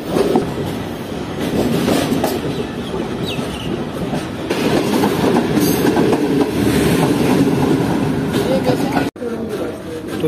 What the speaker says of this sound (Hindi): तो 3:13 पर ट्रेन डिपार्ट कर रही है Tando Adam junction railway station से